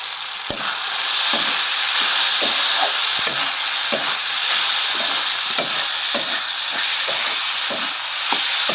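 Onions sizzling hard in a pan, a loud steady hiss close up, with regular scraping stir strokes roughly every half second cutting through it, and no voices.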